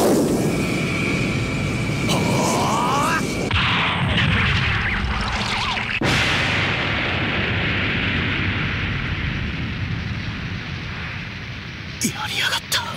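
A huge, sustained roar of blast noise fills the space, with abrupt shifts in texture, then slowly fades into a rumbling hiss with a few clicks at the end.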